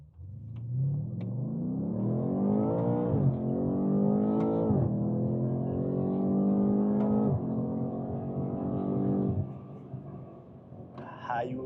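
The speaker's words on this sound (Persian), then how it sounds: "حالا روی ماشین رو حالت ترک مود یه تست ازش بگیریم." A BMW M8 Competition in track mode accelerates hard, its engine rising in pitch through several gear changes, loud and close throughout, with a brief lift near the end.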